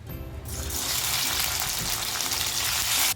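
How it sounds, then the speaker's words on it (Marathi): Tomatoes dropped into hot oil in a pan, sizzling and frying loudly and steadily, a dense hiss that swells after a brief quiet start and continues to the end. "एक मोठा चमचा तेल टाकले मी टमाटे टाकूया आपण"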